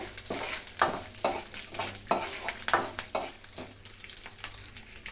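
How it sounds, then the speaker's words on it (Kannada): Steady oil frying with crackling sizzle as a tempering of lentils with rock salt fries, interrupted by repeated scraping stirs at a fairly regular pace, close and moderately loud, with no voices. "ಈ ಒಗ್ಗರಣೆ ಜೊತೆಗೆ ಸ್ವಲ್ಪ ಕಲ್ಲುಪ್ಪನ್ನು ಸೇರಿಸ್ತಾ ಇದ್ದೀನಿ ಚೆನ್ನಾಗಿ ಫ್ರೈ ಆಗಲಿ"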